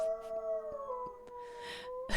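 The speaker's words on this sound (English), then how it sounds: "Aggie started a howl." A dog named Aggie howls in a long, wavering, sliding tone indoors, fairly faint and close, with a few soft clicks and rustles around it.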